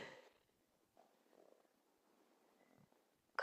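Cat purring while being petted, a faint, soft low rumble that swells and fades in gentle pulses, heard close and quiet against near silence.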